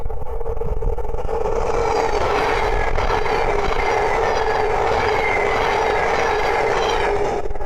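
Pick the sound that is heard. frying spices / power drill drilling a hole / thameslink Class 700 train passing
thameslink Class 700 train passing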